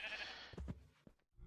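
A couple of short sheep bleats from a Minecraft animal breeder pen in the Infinity Evolved modpack, quiet and close, one drawn-out bleat followed by brief choppy calls.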